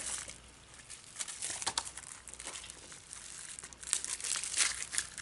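Plastic wrapping crinkles and crackles continuously around a card-making kit as it is unwrapped close up, with no talking.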